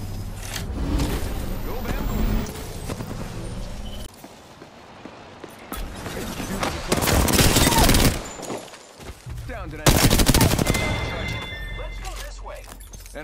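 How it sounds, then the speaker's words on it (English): Rapid bursts of gunfire in the Apex Legends battle royale shooter, played as Mirage with an R-301 and Alternator combo, come in loud, dense volleys with short gaps, mixed with impacts, footsteps and voice talk. "They're shooting at me. Opening fire on the enemy."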